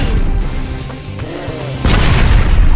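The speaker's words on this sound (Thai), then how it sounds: "ระเบิด" Explosion in the Roblox zombies-versus-humans survival game, a loud booming blast that bursts in near the end over a busy, rumbling game soundtrack.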